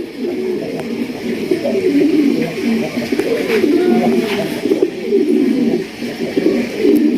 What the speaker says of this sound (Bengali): ডাকের কবুতর আরও একজন ডাকটা শোনেন আর স্টাইলটা দেখেন